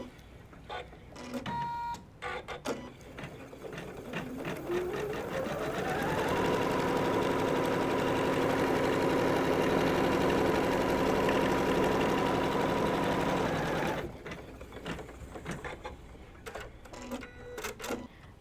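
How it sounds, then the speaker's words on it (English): A sewing machine runs steadily for several seconds, stitching a seam line on a butterfly-shaped tool pouch, with a faint tap of handling before and after. "So it's now going to stitch a seam line."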